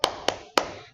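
Three crisp hand claps are heard close up in a steady rhythm, the pattern used to accompany a chant about Surah An-Nasr in a children's Quran lesson.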